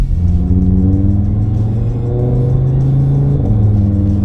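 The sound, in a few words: car engine revving with exhaust valves open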